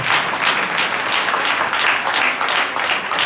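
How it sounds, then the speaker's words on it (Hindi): Church congregation applauding loudly during a New Year prayer service, a thick continuous roar of clapping hands that holds steady without pause. "अपने लिए जोरदार तालियां"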